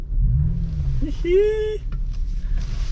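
A US-spec MK4 VW Jetta VR6 wagon's engine keeps a steady low rumble while the car backs up slowly, with a person talking briefly over it.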